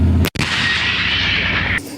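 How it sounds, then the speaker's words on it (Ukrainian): A Leopard 1 A5 tank gun fires a canister round: one sharp, loud blast followed by a long, dense rumbling roar that holds for well over a second, then drops off abruptly. "Сьогодні ми стріляли е, картечним боєприпасом."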